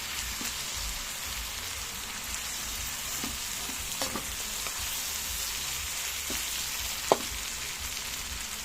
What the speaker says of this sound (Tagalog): Parang adobo muna natin yung sahog para mabango.